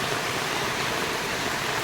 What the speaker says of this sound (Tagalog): Talagang tuloy-tuloy yung tubig, oh.